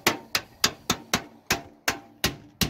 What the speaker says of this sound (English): Where we nail is right in between the grooves of the soffit.